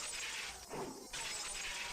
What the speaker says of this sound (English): I smashed all the glass windows too